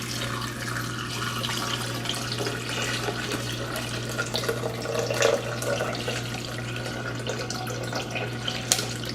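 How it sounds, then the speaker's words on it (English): Water pours steadily from a tap or jug into a container while cucumber agua fresca is being made, a soft, continuous splashing rush with a low hum underneath and no talking. "add our water."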